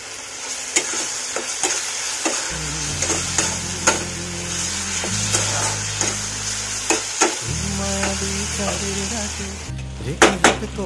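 Jackfruit and prawns in a spice mix are stir-fried with green chillies and sugar. A spatula scrapes and knocks the pan in frequent uneven strokes over a constant sizzle, and background music plays throughout.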